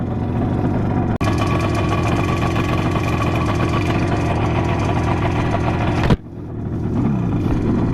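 A 1974 Yamaha RD 350 two-stroke twin motorcycle idles close by with a loud, steady burbling rattle, then abruptly drops and settles into a quieter, slightly uneven idle.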